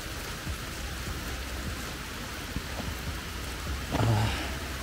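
Rain falls outdoors on the grounds of a 220-year-old house in New Jersey, a steady broadband hiss of drops on surfaces with a few heavier splashes, continuous and moderately close, with no talking.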